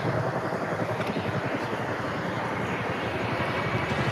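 Chinook helicopter turning during an airshow flying display, a steady loud rumbling roar with a throbbing rotor texture, sustained and fairly distant, with no clear voices.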